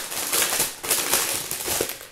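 Plastic packaging is being pulled off craft supplies, making loud crinkling and crackling rustles in several quick bursts close up, with no talking.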